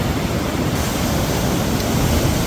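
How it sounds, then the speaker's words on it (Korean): Big ocean waves surge on a rainy day, a loud continuous roar of surf mixed with wind. "지금 비가 와서 그런지 모르겠는데 파도가 장난 아닙니다"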